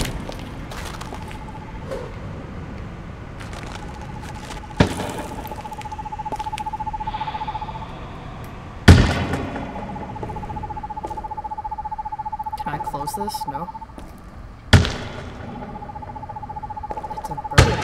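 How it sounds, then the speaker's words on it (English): A bird hoots like an owl in the video game Perception, repeated long steady hoots at intervals over a dark ambient drone, broken by occasional loud booming thuds; someone speaks briefly. "It's a bird."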